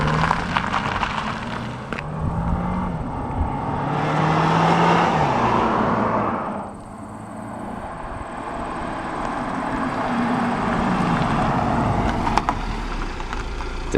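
A Mercedes-Benz C300 engine runs nearby, swelling as it revs up and then settling into a steady low hum.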